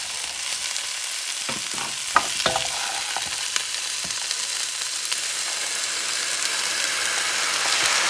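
Potatoes and carrots drop into a hot stew pot on medium-high heat, a few knocks and clatters over a continuous, building sizzle of frying, close and moderately loud, with no voices.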